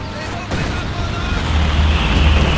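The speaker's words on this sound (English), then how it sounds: "Frag grenade thrown on top of that hit the dirt guards. Airstrike, a smoke run coming on in." Frag grenade blast followed by an airstrike in Company of Heroes 2: a sharp bang, then sustained rumbling explosions and low booms building louder across the battlefield.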